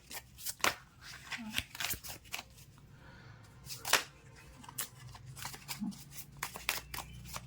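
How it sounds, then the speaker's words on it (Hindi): Tarot cards are shuffled close by in a quiet room, a run of crisp riffling snaps and soft taps under occasional low talk. "एक और शफल करेंगे."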